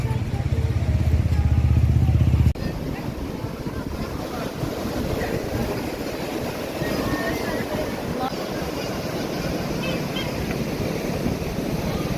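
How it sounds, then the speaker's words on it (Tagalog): Heavy surf roars continuously close by at Baler beach, Aurora, a dense wash of crashing waves blurred by wind buffeting the microphone, after a brief low engine drone at the start. "Sobrang lakas ng alon."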